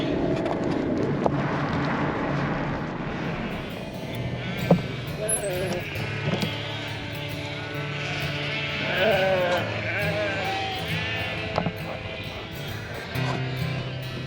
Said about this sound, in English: Sheep traffic jam.